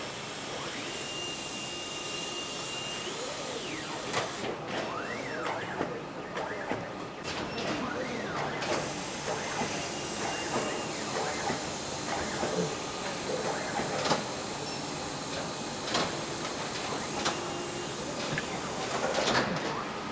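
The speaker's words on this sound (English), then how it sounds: "we're loading our covers on one side of the machine and the book blocks on the other" A photo book binding machine joins covers to book blocks in a busy print lab, giving off a continuous mechanical whir with hissing air, sliding clunks and repeated rising squeaks, steady and fairly loud throughout.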